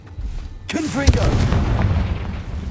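A Confringo fire spell bursts in Hogwarts Legacy with a sudden loud boom, followed by crackling, rumbling debris and a short whooshing, warbling tail, with brief shouted voices around it.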